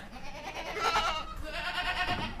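A dairy goat bleats on a goat farm raising Saanen and related milking breeds: two drawn-out, wavering cries in quick succession, clear and close, with no talking.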